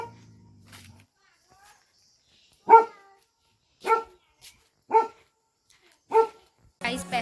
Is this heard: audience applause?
no